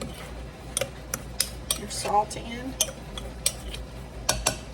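A metal spoon clinks and scrapes against a bowl in a series of light, irregular taps while dry cornmeal and salt are stirred, with a brief murmur of speech.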